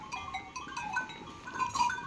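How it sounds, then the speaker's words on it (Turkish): Female fattening lambs in a livestock pen bleat faintly over a busy barn background, with several overlapping calls rising and falling in quick succession. "bu bölüm dişi besli kuzularımızın bölümü"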